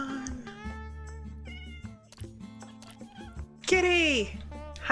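A cat meows repeatedly in the Minecraft-style game Primecraft, several short rising and falling mews spaced across the moment, with a player's excited voice talking over them.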